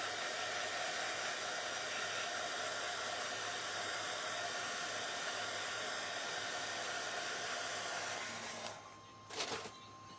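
A hair dryer blows steadily on fresh paint on a wooden standing birdhouse, its constant airy roar running almost the entire time before cutting off near the end with a few brief clunks.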